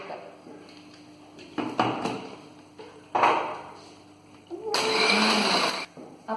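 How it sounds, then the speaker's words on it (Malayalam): Coconut lemon juice with cardamom, mint leaves, water and ice is whizzed in a kitchen blender: a loud, steady motor whirr of about a second after some nearby clatter and knocks. "ഇത് നന്നായിട്ട് അടിച്ചെടുക്കാം."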